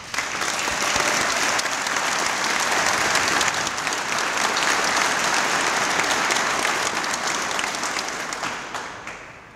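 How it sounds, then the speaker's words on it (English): Sustained applause from a crowd at a military veterans hall of fame unveiling ceremony, dense steady clapping that holds throughout and tapers slightly at the end. "I'd like to give these young men and women a round of applause"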